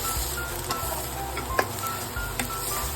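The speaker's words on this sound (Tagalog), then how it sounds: "Next is potato. Ituin lang natin hanggang mag-brown." Potatoes fry in a pan as a steady close sizzle, with a few soft scraping stirs and light clicks over the hiss.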